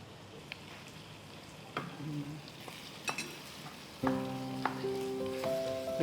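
Chicken frying in butter in a pan while being stirred: a low sizzle under scattered scraping clicks and clinks of the utensil, with a steadier humming tone joining for the last couple of seconds.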